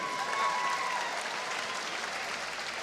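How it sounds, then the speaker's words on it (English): An audience at a World Series of Boxing match claps steadily throughout, a dense even patter of applause without cheering. "a round of applause for Mr."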